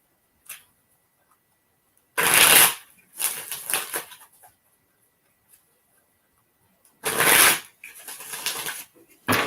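Playing cards are shuffled in two separate bursts of quick riffling and rustling, each followed by softer handling noises and near silence in between.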